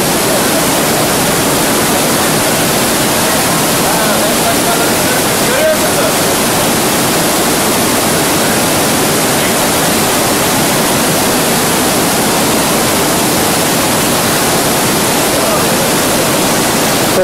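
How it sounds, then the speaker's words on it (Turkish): Düden waterfall in Antalya roaring at full force, a dense, loud, unbroken rush of falling water that fills the whole stretch without pause. "Güden Şelalesi tüm muhteşemliğiyle başlayan daha güzel bir yer."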